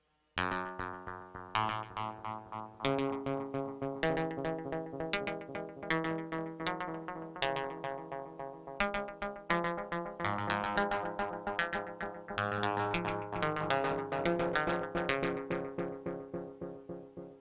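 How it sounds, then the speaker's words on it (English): Dense, repeating plucked and chiming notes multiply into a busy cascade of echoes from a Morphor Echo four-tap analog BBD delay, loud and sustained throughout with no pauses. "We will hear 4 times as many echoes in the cycle of the delay line."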